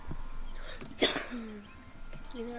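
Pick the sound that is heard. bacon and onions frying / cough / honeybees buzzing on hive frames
cough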